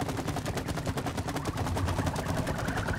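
Video-game gunfire in It Takes Two rattles out in dense, rapid bursts that run almost continuously, loud and close, with no talking over it.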